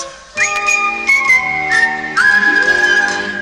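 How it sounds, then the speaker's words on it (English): Someone whistles a short, bright melody, clear and close, stepping between a few sustained notes with light music underneath. "Just whistle a tune that's in your heart."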